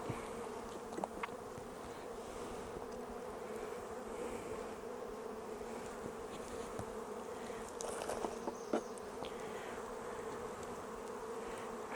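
Agitated honey bees buzz steadily at an opened backyard hive, a dense close-up drone with no speech and occasional sharper passes near the microphone.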